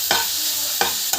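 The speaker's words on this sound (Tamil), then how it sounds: "கேரட் போட்டுட்டு நல்லா வந்து வதங்கணும்" Carrots sauté in a pan with a steady bright sizzle, broken by three quick scraping stirs of a spoon, close and loud with no talking.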